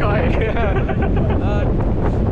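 Strong cyclone-signal wind roars over big waves on Marine Drive at Cox's Bazar, a loud continuous buffeting rumble close to the microphone, with a muffled voice faintly audible beneath it.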